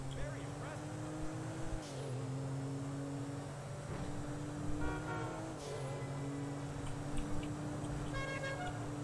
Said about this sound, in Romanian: Doamne, claxonul ăsta.